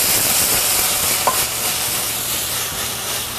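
Onion, garlic and Irish whiskey stirred in a hot pan, a loud, steady sizzle and hiss with the scrape of stirring running throughout, close up.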